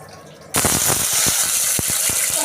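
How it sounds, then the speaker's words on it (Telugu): Mustard seeds and cumin hit hot oil in a pan and burst into a sudden loud sizzle, with sharp popping crackles scattered through the steady frying hiss. "ఆయిల్ కొద్దిగా హీట్ అయ్యాక ఆవాలు జీలకర్ర వేసుకుందామండి"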